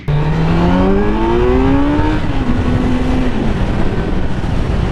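A Kawasaki Z900 motorcycle pulls away, its engine loud and close, revs climbing through one gear before a shift and a steady higher drone as it rides off.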